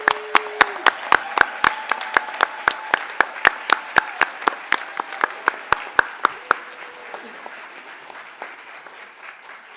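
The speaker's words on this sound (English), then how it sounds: "Please stand and give yourself a round of applause." Audience applause at an 8th grade promotion ceremony, many hands clapping, starting with sharp distinct claps that blend into steady clapping, then fading toward the end. A voice is briefly heard under it.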